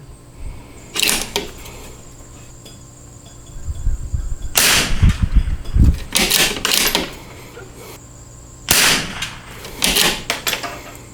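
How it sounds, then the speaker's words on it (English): A CZ 457 bolt-action rifle with a Lilja barrel, MDT XRS chassis and Timney trigger fires at a range: sharp cracks up close, separated by seconds of quiet, with clanks of handling between them. "Gun shifted funny when the trigger broke."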